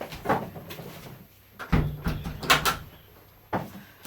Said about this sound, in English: could you close the door for me, please?